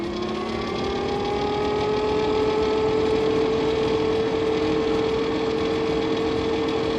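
A 2026 Tuttio Soleil electric scooter in Lava Orange runs at full throttle in mode 2, giving a steady, continuous motor whine that rises slightly in pitch over a constant rushing background, with no talking.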